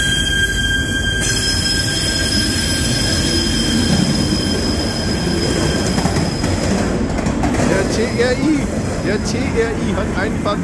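A TRI special train hauled by a BR 110 locomotive arriving at Köln Hauptbahnhof, with a loud, continuous rumble of rolling wagons and drawn-out high wheel squeals close by, while someone speaks over it.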